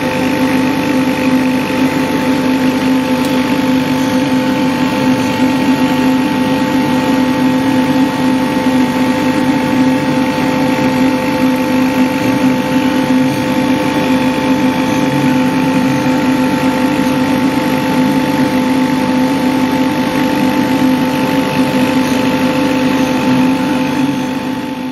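A K40 laser cutter runs a cutout at a steady pace, its fans and motors making a constant, loud mechanical hum with a steady tonal whine that stays even and unbroken throughout, with no talk.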